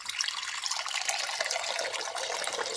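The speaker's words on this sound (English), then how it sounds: "you take a quart of water. That's 4 cups. Pour it in a bowl." Water is poured from a quart measure into a bowl, a steady soft splashing trickle heard close and fairly quiet throughout, with no voices.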